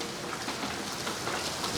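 Steady rain falling outdoors, a continuous soft hiss of drops with no distinct thunder, even and moderately loud throughout the short stretch.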